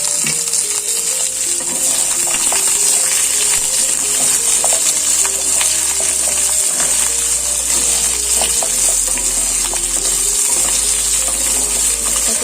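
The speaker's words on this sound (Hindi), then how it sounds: "ताको 2 मिनिट पे तेल सहित भल भाबे भाजी दबा।" Raw mango pieces frying in oil with curry leaves, giving a constant loud close sizzle and crackle with occasional light clinks of a utensil, no talk.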